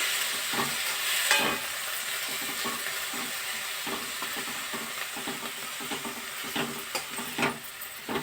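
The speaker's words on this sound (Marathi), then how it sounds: "पहा हलवायची व्यवस्थित ती भाजी" Drumstick leaves (moringa greens) are stirred in a hot pan with a steady close sizzle, while a spoon scrapes in irregular strokes and some clatter sounds throughout; no one speaks.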